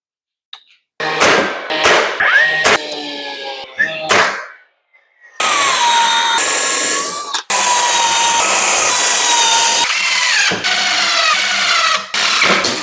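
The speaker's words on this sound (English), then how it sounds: "Fasten it with some brads and then come back and screw it in." A clamp rack is fastened with brad nails and screws: sharp pneumatic nailer bangs, then a loud power drill whirring as screws drive in, close and punctuated by more nail shots.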